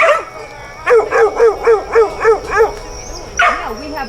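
A thin, emaciated dog chained in a backyard barks in a steady run of seven or eight sharp, yelping barks, followed by a whining howl, loud and close.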